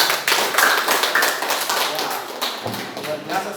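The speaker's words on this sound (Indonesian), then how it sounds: "kita kasih aplaus untuk kelompok 1" Applause for a student group in a classroom, a dense patter of many hands clapping at close range for a few seconds with voices mixed in.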